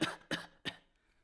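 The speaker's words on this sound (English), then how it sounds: "Cough, cough." Three quick, dry coughs in a row, fairly close and quiet, the last one weaker, followed by a brief lull.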